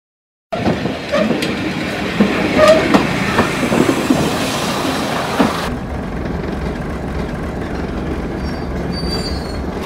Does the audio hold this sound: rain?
no